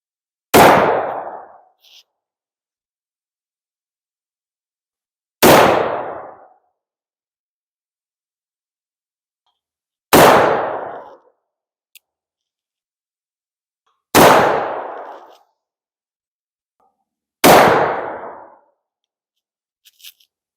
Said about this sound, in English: Let's do some shooting.